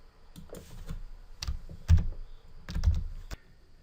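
Typing on a computer keyboard, a few close, crisp key clicks in small irregular bursts against a quiet background.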